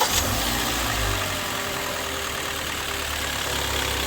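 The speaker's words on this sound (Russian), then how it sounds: "Проблема всем известная, это юбки поршней стучат по цилиндрам." Hot-idling Hyundai ix35 engine whose piston skirts knock against scuffed cylinders, a close steady idle with a faint rhythmic tapping underneath, alone without talk.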